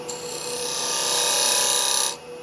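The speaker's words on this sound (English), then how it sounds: "I'm using this small 1/4 inch square scraper that I made" A small handmade 1/4 inch square scraper cuts into a wooden finial lidded box spinning on a lathe, a bright, hissing scrape that builds over about two seconds and stops abruptly, with the lathe's hum underneath.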